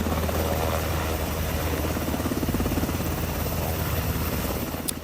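Rescue helicopters airlift stranded quarry workers after a deadly earthquake in Taiwan, a loud, constant rotor thump and engine drone filling the scene close by, steady throughout with no voices.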